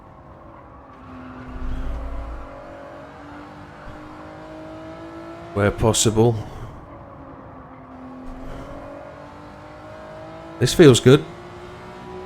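Race car engine in Gran Turismo during a licence test run, a steady droning hum that rises in pitch and eases off as the throttle lifts, with two sharp bursts of noise, while someone talks over it.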